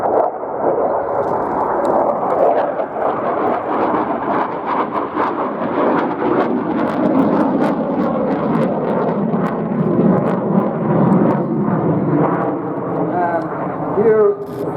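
A jet aircraft with afterburner flames roars past at the Royal International Air Tattoo, a loud broadband rumble and whoosh that holds steady throughout with no break.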